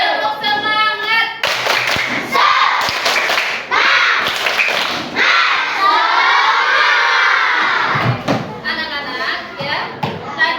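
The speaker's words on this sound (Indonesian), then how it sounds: "Tepuk semangat" Schoolchildren in a classroom lesson on Pancasila values perform the Indonesian 'tepuk semangat' spirit clap: bursts of rhythmic group clapping mixed with loud, shouted chanting voices and thumps, repeated in lively waves.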